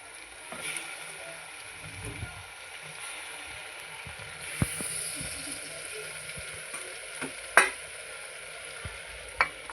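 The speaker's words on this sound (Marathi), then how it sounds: "त्याच्यामध्ये आता मी हे जे दोन बटाटे आहेत कापून घेतलेले ते बटाटे टाकत आहे" Two cut potatoes going into a pan of sautéed tomatoes and capsicum for pav bhaji, a steady soft sizzle with occasional spoon knocks and one sharp clatter, close, with a little talk in the background.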